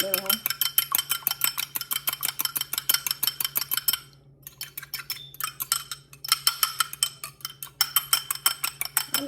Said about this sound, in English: I'm just using a fork to whisk it